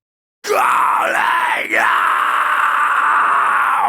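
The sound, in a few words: raw unprocessed scream vocal recording for heavy music mixing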